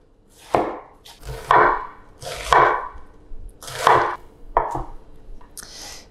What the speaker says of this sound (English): it's just about really thinly slicing the cabbage